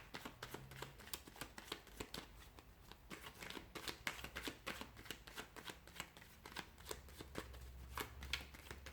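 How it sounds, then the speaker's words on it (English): Tarot cards being shuffled by hand during a reading, a run of quiet crisp riffling and flicking with soft repeated slaps, close and alone with no voices. "let's begin by giving the cards a shuffle"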